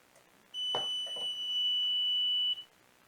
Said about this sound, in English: First, we're going to turn on the power station. Loud beep.